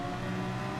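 Porsche race car engine in Gran Turismo 7 holding a steady, loud, continuous drone with strong harmonic tones, sustained without pause through a short burst and with no talk.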